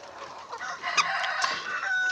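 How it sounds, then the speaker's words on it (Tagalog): Chickens feeding and clucking and squawking close by on a farm, a busy flock with overlapping calls and a few sharper cries, steady background hum underneath. "ito po yung mga manok namin kumakain"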